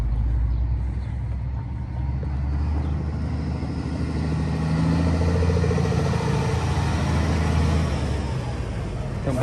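A 1993 Mack RD600 truck engine runs steadily nearby, a deep, even diesel rumble with a low throb that holds constant throughout, with no voices over it.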